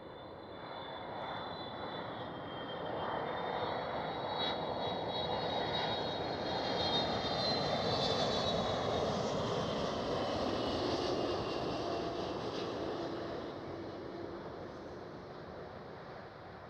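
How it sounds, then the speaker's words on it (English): A KLM Boeing 777 airliner landing at Schiphol, heard as a steady jet engine roar with a high whine that swells as the plane passes close overhead and then slowly fades, with no speech. "And it's a KLM 777."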